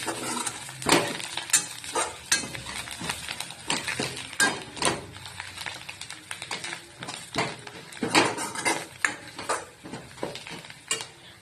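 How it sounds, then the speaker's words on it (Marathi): Green chili and red chili powder sautéed in a pan, with a busy sizzle and repeated sharp scrapes and taps of a spatula stirring in an irregular rhythm, close and fairly quiet. "मिरचू, लाल तिखट परतून घ्यायचं चांगलं"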